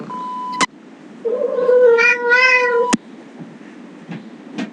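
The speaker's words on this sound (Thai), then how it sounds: "แมวเราเสียงแปลกๆนะ" A long, wavering cat meow in a horror video game, rising and falling, with sharp clicks before and after it and a faint hiss of background noise throughout.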